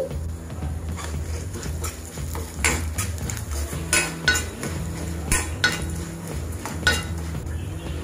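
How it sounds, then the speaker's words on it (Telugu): Coriander seeds and mustard seeds dry-roasting in a pan for a tomato pulusu, with repeated metallic scraping and clinking of a spoon against the pan over a soft sizzle, close and steady, no voices. "4 స్పూన్ల ధనియాలు, 1/2 స్పూన్ ఆవాలు. వీటన్నిటిని వేసి ఎర్రగా వేయించుకోవాలి."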